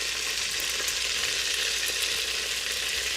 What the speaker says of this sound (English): We'll let it cook for about 5 minutes just on the skin side.